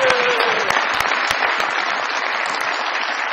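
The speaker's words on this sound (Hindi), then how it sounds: "बहुत सारी तालियां जी" A studio audience on a Pakistani comedy talk show bursts into dense, sustained applause, steady and loud for the whole span with no talk over it.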